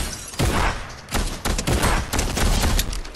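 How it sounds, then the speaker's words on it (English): Bursts of rapid gunfire in a shooting video game, several sharp volleys in quick succession, loud and close, filling the whole stretch with a short lull in between. "No, there's another one shooting."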